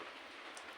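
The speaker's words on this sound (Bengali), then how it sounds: "দেখো বাইরে কত বৃষ্টি হচ্ছে।" Heavy rain falls outside on a cold morning, a soft, faint, even hiss of rain on surfaces heard from indoors in a short continuous stretch.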